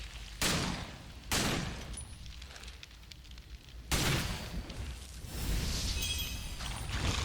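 Ranged gunfire in the action RPG Victor Vran, three or four loud percussive blasts with noisy, crackling tails, spaced a second or more apart, followed by a sustained roaring burst near the end, with no talk.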